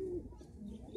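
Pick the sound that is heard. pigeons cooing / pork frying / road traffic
pigeons cooing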